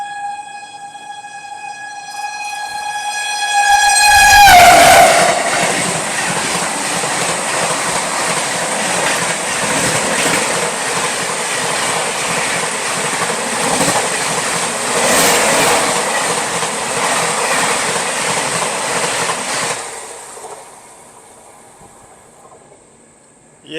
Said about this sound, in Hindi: अभी आ रही है सियालदा राजधानी एक्सप्रेस